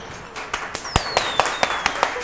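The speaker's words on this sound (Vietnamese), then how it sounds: "Hãy dành một tràng vỗ tay cho người chiến thắng." A few hands clap in a quick, even rhythm for the winner of a forfeit challenge game, about nine close, crisp claps over roughly two seconds, with a thin sliding whistle-like tone drifting underneath.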